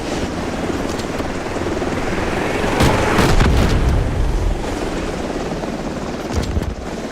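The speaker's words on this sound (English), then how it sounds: "Artillery barrage incoming." An artillery barrage in the Delta Force video game lands as a heavy, rumbling burst of explosions about midway, over a steady helicopter rotor drone that runs throughout.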